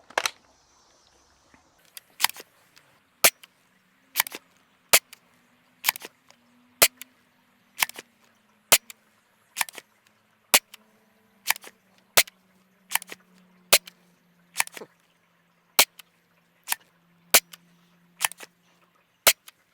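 Foam blaster firing Worker green tip heavier darts, about twenty sharp snapping shots at a fairly even pace of roughly one per second, with faint priming sounds between them.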